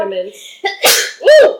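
A child sneezes once, sharp and close, right after brief speech while baking Christmas kaleidoscope cookies at home; a voice exclaims just before the burst.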